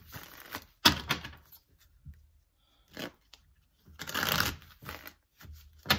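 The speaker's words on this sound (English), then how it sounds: "If I can get my card shuffled." Several bursts of card shuffling, riffles and flicks coming in separate close, crisp rustling runs with quiet pauses between.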